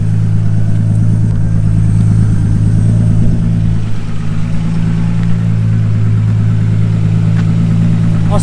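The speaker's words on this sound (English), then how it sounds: "See how this engine is" A built 700bhp Nissan Skyline R33 GTST engine runs near the microphone with a loud exhaust, a deep steady drone with a rough pulsing texture, no talking.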